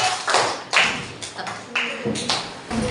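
Classroom applause from students, several short separate bursts of close, loud clapping in a small room.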